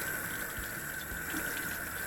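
Hot water runs from a sink tap in a steady, quiet stream that hisses softly and evenly throughout, with no voices.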